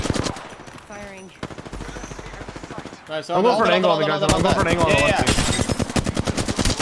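Rapid automatic gunfire rattles in Apex Legends, bursts of close shots coming in quick trains while players talk over the shooting.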